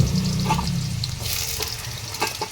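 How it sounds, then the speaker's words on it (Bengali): Oil sizzles steadily and loudly as potatoes fry in a pan with plenty of oil, with a few light stirring clinks near the end. "একটু বেশি পরিমাণ তেল দিতে হবে দিয়ে আলুটা ওই ভেজে নিতে হবে"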